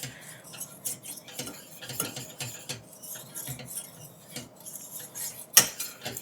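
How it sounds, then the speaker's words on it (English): Whisking cream of wheat porridge made from fresh-milled whole grain in a pot: repeated light metallic taps and scrapes of the whisk against the pot at an uneven rhythm, close and moderately quiet, with one sharper clink near the end. "So I just keep whisking it."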